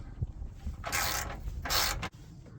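A ratchet turns out a bolt on the front wing of an Opel Astra J MK6, giving two quick bursts of rapid clicking close by, with a sharp clack between them.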